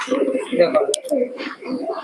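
A Pakistani Salar Teddy pigeon coos in repeated low rolling phrases, close and fairly loud, with a voice talking over part of it.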